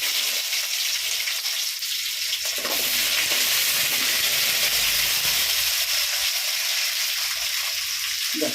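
Small sambar onions sizzle and crackle steadily in hot oil, a loud continuous frying hiss with occasional stirring.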